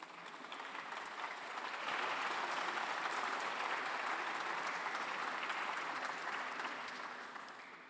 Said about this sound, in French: La direction n'est pas responsable des applaudissements.